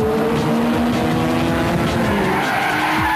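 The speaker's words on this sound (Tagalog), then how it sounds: "Drag racing. Circuit racing." Racing cars in drag, circuit and drifting competition, engines roaring loudly with squealing, skidding tires and rising gear pitch sweeps, continuous and close throughout.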